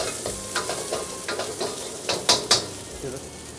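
Chopped onion, garlic and ginger stir-fried in hot oil, a steady close sizzle broken by several scraping stirs of a spatula against the pan, two sharper scrapes near the end, with no talking.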